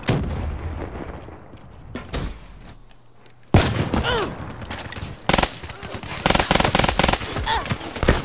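Rapid automatic gunfire and loud shot bursts from a Call of Duty Black Ops III multiplayer match, hammering in clustered volleys after a quieter opening, with a voice briefly heard over the action.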